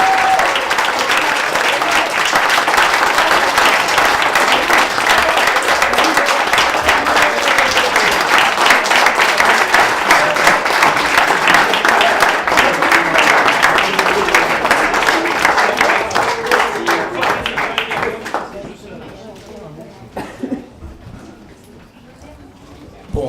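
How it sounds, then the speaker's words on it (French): An audience at an evening award ceremony for a patriot of the year applauds loudly and steadily for about eighteen seconds before the clapping thins out and fades to scattered claps. "On peut les applaudir."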